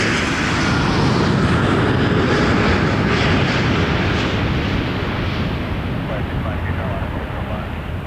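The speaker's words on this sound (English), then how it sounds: "A350 900 Cathay Pacific departure to Hong Kong." A Cathay Pacific Airbus A350-900 departs Toronto Pearson, its engines a loud, broad, close roar that holds steady and then begins to fade, with a voice talking over it.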